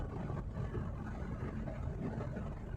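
A car engine hums steadily with low road rumble throughout a test drive after a transmission fluid flush, on worn suspension, a continuous drone as the vehicle drives.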